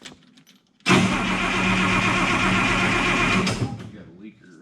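An Oliver 1950T tractor engine cranks and catches, roaring loudly and steadily for about three seconds before dropping away, with voices around it.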